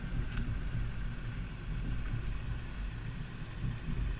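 Steady low rumble of a 2018 Mazda CX-5 carrying a Yakima FullBack 2 bike rack as it drives over alternating speed bumps, with continuous road and wind noise and faint knocks from the rack throughout.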